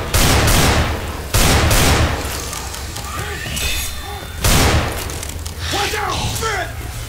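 Gunfire in the Left 4 Dead 2 zombie shooter, loud bursts of heavy shots and booms in clusters with gaps between, mixed with other game sounds.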